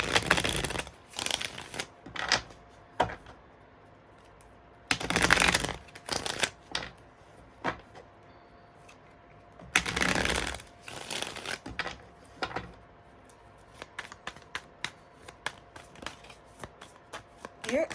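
Tarot cards are shuffled in repeated riffling bursts close up, each a quick papery flutter, with softer taps and card handling between them.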